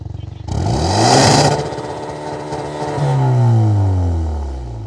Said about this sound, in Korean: 이게 순정 배기음입니다.